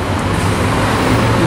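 A Scania bus drives past near the Scania Latin America factory exit, a loud, close rumble of engine and road noise filling a brief moment of traffic.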